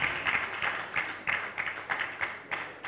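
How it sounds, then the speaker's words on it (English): Rhythmic clapping in regular beats, about two per second, like a group clapping in unison, moderately loud, at a dinner reception. "Please a hand of applause for the Deputy Governor."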